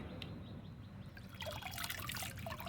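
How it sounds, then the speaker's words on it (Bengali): Lotus tubers are rinsed in water, a soft trickle and slosh that swells into louder splashing and running water partway through, close by and fairly faint, with no speech. "সবগুলো ধুয়ে ফেললাম চারটা টিউবার চারটা টিউবার ধুয়ে ফেললাম"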